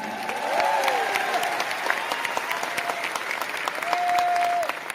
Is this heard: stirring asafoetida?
no